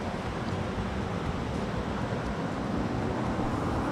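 A spring-fed creek pouring over a waterfall at Kings Canyon near Carson City, Nevada, late in summer: a steady, full rushing hiss of falling water, close and unbroken, with no talking.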